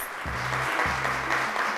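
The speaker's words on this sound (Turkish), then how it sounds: "İki masamızı da alkışlıyoruz" Audience clapping for both tables in a quiz show round, a broad steady patter of many hands running throughout, with two short low tonal stings sounding underneath it.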